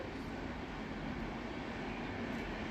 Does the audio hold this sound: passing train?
yes